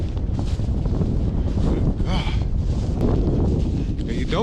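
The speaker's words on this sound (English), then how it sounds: "listen to that wind" Strong wind gusts at an outdoor power-line work site, heavy low buffeting close against the microphone that stays steady throughout, with a few brief higher sounds in between.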